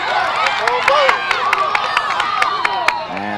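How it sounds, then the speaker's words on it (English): A West Deptford crowd at a 2007 girls' high school soccer match against Rancocas Valley cheers and claps steadily, with sharp individual claps and shouts standing out over a dense roar of voices throughout. "And the West Deptford crowd loves it"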